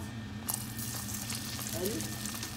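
Gnocchi balls fry lightly in sunflower oil, a continuous dense sizzle with a low steady hum underneath and a faint soft voice.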